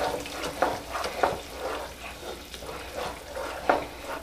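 Butter melting in a pan for a Southern caramel cake, with soft sizzling and repeated stirring scrapes at a steady rhythm, close and moderately quiet.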